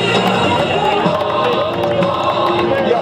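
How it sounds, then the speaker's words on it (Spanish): A crowd cheers and applauds for the third-place finisher at a Chevrolet car racing final awards ceremony. A continuous roar of claps and shouts is heard close up, with an announcer speaking over it. "Fuerte los aplausos para Fernando Perinosi, el tercer lugar."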